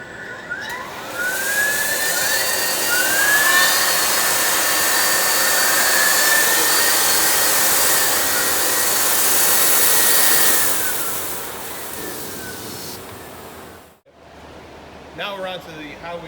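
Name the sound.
vacuum loaders running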